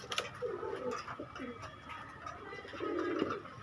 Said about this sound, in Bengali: এক পেয়ার ওমান টেডি কবুতর